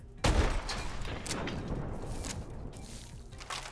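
Blunderbuss shots in Call of Duty Advanced Warfare: one sharp, heavy blast opens, then a rattle of further reports and echoing crackle trails off at a lower, steady level.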